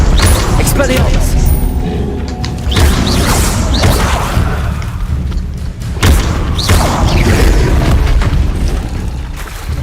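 Expelliarmus spell cast in Hogwarts Legacy, a loud, dense burst of booming magical blasts and thuds layered over constant game noise, with voices speaking throughout.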